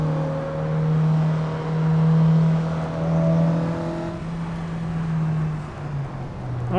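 Mazda MX-3 engine in Assetto Corsa racing simulation, a steady droning tone holding and rising slightly with revs, continuous and moderately loud, with gear changes breaking the pitch.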